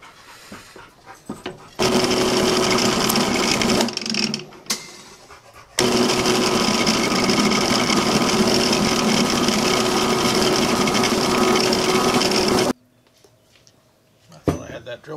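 A power drill bores holes into a tractor lift arm stabilizer mount, whining in two long sustained bursts up close, with quieter pauses between and after.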